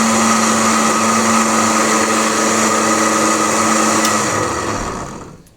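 An electric blender mixes mango and sugar for lassi, a loud steady whir running for about five seconds before winding down at the end.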